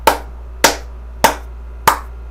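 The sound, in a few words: clapping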